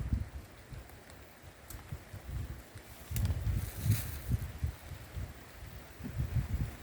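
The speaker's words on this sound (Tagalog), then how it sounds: "Makapag-video ng maayos ng ulan" Rain falls steadily through forest near a mountaintop, a continuous soft hiss with low rumbling swells that thicken midway and again near the end, with no voices.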